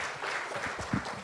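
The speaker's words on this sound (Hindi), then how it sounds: "राणा जी के लिए एक बार जोरदार तालियां" Loud applause from a seated audience at a Hindi literary event, steady dense clapping filling the whole short stretch with a slight swell near the end.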